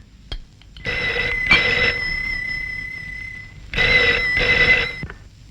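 An old-style telephone bell rings loudly in two long bursts separated by a pause, a bright trilling ring close by.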